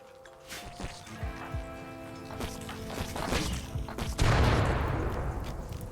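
Gunfire in RimWorld Biotech during a fight against mega spiders in a doomsday vault: scattered sharp cracks and thwacks, then a heavier burst of shots and impacts building toward the end, with no talk.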